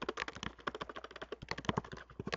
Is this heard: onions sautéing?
no